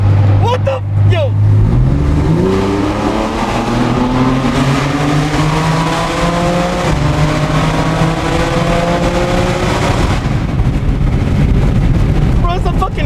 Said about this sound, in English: it's a fucking big ass monster truck cutting up